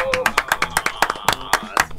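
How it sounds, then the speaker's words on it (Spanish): Brisk rhythmic clapping greets a guest on a talk show, with distinct claps roughly every quarter second and voices underneath. "¡Aplausos!"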